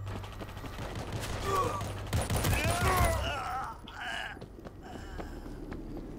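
A heavy weapon fires in World War Z in dense, rapid bursts of gunfire that build to a loud peak and then trail off, with shrill zombie-like cries and game effects mixed in.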